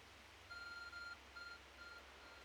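Electronic notification beeps from a phone in the Pokémon Legends video game, heard as a short series of clear, steady high tones, two longer ones followed by shorter ones, over a low background hum with no talk.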